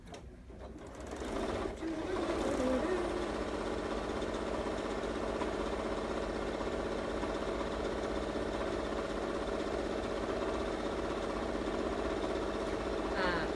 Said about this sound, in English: now with your right sides together, you're going to sew your stocking all the way around